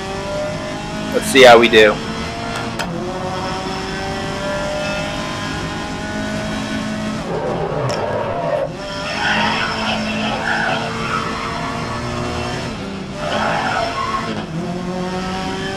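A race car in GRID (2019) runs a qualifying lap, its engine holding a steady drone with a sharp tire squeal early on and brief skids later, while someone talks over it.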